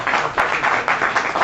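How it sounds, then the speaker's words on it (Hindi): An audience at a literary society's annual celebration claps in a dense, rhythmic burst of applause that swells and dips steadily over a brief moment. "तालियों में कंजूसी हो रही है थोड़ी"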